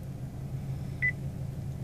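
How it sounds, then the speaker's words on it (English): A Chevy Sonic dashboard gives one short, clear electronic beep during an oil life reset, heard over a low steady cabin rumble. "And it makes a beeping sound."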